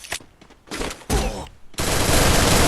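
Gunfire rattles in a video game shooter as loud, dense automatic bursts that build into a sustained volley, with almost no speech.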